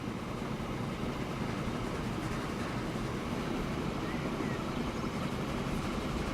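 A freight train in Transport Fever rolls along with a steady, dense rumble and mechanical drone, unbroken and fairly loud throughout.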